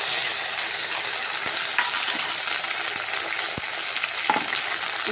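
Ground spice paste with chopped tomato frying in onions for Bengali mutton kosha, a close, steady hiss of sizzling oil with faint scrapes and clicks of stirring, no voices.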